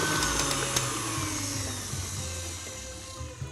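A stand mixer fitted with a dough hook whirs steadily while breaking up softened butter, a close, continuous motor hum that eases slightly toward the end.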